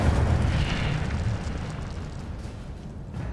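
The Incendio fire spell goes off in the Hogwarts Legacy video game as a loud, rumbling whoosh of flame that swells at once, then fades into a crackling burn.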